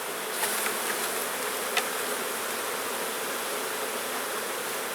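Honeybees buzzing around an open hive set up with honey frames and drawn-out brood frames, a dense, steady swarm hum filling the air, close and continuous with no talking.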